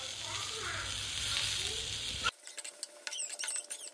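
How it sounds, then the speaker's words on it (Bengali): Chopped garlic added to potatoes and onions already frying in a pan, a loud continuous sizzle that cuts off sharply to quieter crackles and a few stirring scrapes. "এই পর্যায়ে আমি দিয়ে দেবো রসুন কুচি"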